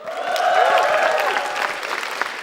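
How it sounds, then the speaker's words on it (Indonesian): Crowd at a university stand-up comedy show claps and cheers as a comedian is introduced, dense applause swelling in the first second over a ringing musical tone, then thinning into scattered claps. "Langsung tepuk tangan saja untuk Akbar."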